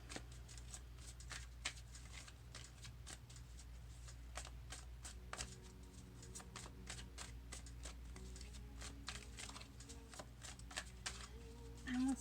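Tarot cards are handled and drawn from a deck, making a steady run of soft, close riffling snaps and slides that continue throughout under a faint background hum.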